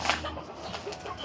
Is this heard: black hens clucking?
yes